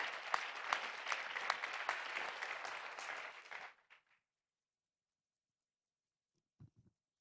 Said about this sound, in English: Ladies and gentlemen, a big round of applause, Minister Desmond Lee.